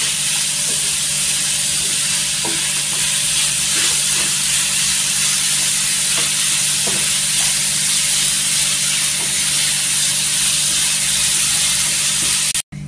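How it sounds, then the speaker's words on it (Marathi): Grated raw potato stir-fried in oil on a pan gives a steady, loud sizzle throughout, with faint scraping stirs now and then and no voices. "इथे तेलावर परतून घ्यायचं"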